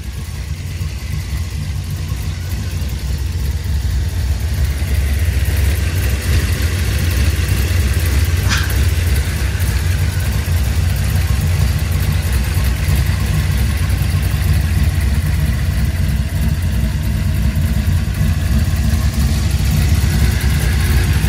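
A 1957 Chevrolet Bel Air restomod with a brand-new Fastco stroker engine runs steadily, a deep, continuous low rumble that holds at an even loudness for about twenty seconds with no talk over it.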